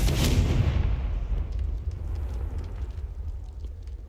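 Confringo spell explosion in Hogwarts Legacy: a loud booming blast at the start that decays into a long rumbling tail with scattered crackles, no voices over it.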